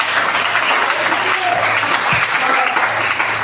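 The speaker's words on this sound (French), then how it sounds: "Est-ce qu'on peut acclamer le Seigneur?" A church congregation bursts into sustained, dense applause, loud and steady throughout, filling the room with no talk over it.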